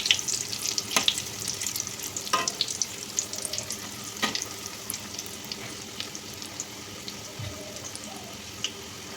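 Pastry dough fries in oil over low heat with a soft, steady sizzle, joined by a few sharp clinks and knocks from turning the pieces, close and fairly quiet with no talking.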